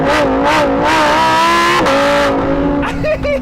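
A loud Lamborghini Huracán engine revs hard, its pitch rising and falling in rapid sweeps, close and raucous throughout.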